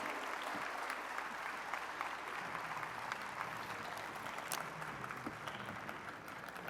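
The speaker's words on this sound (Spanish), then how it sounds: "Si me pueden ayudar con un aplauso para poder darle la bienvenida a nuestros speakers." Audience applause welcoming speakers at an OEA international-actions session of the WCF 2022 conference, a steady sustained clapping from a large crowd that fills the whole stretch at even loudness.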